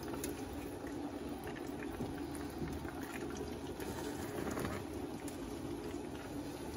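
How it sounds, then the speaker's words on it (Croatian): Water with oil boiling in a pot on the stove, a steady close bubbling and seething rumble that runs evenly throughout with no voices. "Kada nam je voda provrela"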